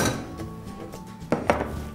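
Raw mango pieces drop into a heated pressure cooker, giving a few sharp metallic clinks and thuds near the end, close and clear over a quiet kitchen background.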